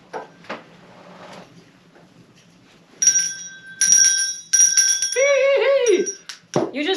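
A bell rung indoors in a small room during a Christmas live stream, bright metallic tones arriving in several clustered bursts after quiet murmuring, close and fairly loud, ending in a sliding, wavering ringing tone.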